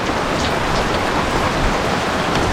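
Steady rain falls outdoors during a fishing and cooking trip, a dense continuous patter on surfaces that holds even and loud throughout, with no voices.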